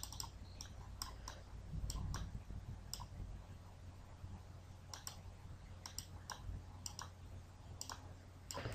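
A computer mouse clicks quietly and irregularly at a PC, with sharp single and double clicks spread over a faint steady hum and no talk.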